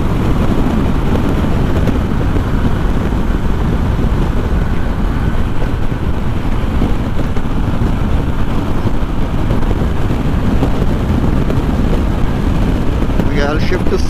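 A Harley-Davidson Breakout 117 motorcycle roars at top speed on an open road, its engine drone buried under loud, constant wind rush against the microphone.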